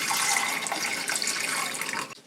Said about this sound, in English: we'll pour the water in